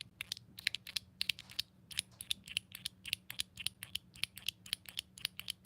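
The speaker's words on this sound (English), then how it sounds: "If you can hear that, it's just like a zipper plate" A fidget toy zipper plate is worked steadily, giving a dense run of crisp, quick clicks and ticks close up, fairly quiet, with a faint low hum beneath.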